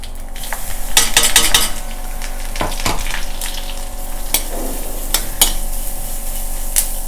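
Mustard seeds and urad dal are tempered in hot oil, giving a steady sizzle broken by scattered pops and metal clinks of a spoon against the pan, fairly loud and close.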